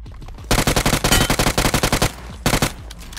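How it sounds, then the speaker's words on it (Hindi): Loud, rapid automatic M4 assault rifle fire in BGMI (PUBG Mobile) gameplay, in two bursts: a long rattling stream of shots, a short pause, then a brief second burst, close and sharp. "लेकिन उतने में यहाँ पे एक M4 चलती है।"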